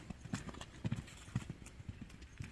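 A pony walks on a hard surface during an equestrian outing, and its hooves give a faint, steady clip-clop. Several soft strikes fall in an even rhythm against quiet background noise.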